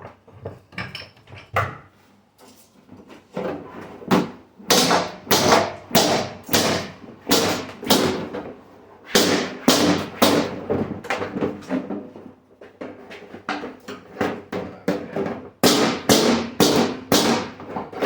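A masonry hammer's hatchet edge strikes riveted aluminum again and again, each impact a sharp metallic tap or thud that comes in irregular bursts and clusters, loud and close, with short pauses between runs of blows.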